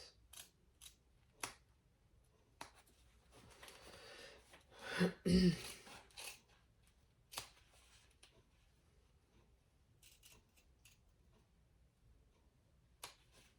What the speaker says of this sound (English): need scissors and good lighting so you don't cut your threads